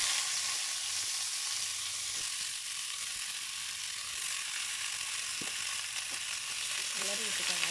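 Ivy gourd fries in hot coconut oil, a steady hissing sizzle with occasional clicks and stirring clatter.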